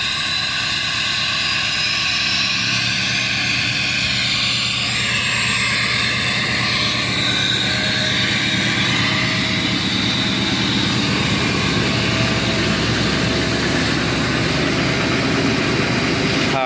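A straight-piped LBZ Duramax diesel truck holds a high idle on a -10°F morning, giving off a steady, loud droning rumble with a faint high whine above it, close by and unbroken, with no talk.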